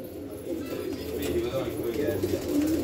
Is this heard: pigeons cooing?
yes